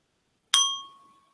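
A single bright strike of a meditation bell rings out clearly and decays with a sustained ringing tone over about a second, alone in silence.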